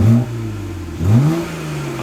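BMW E90 with exhaust cutouts open, revving twice in quick succession, each blip rising sharply then settling into a deep, loud exhaust drone close by.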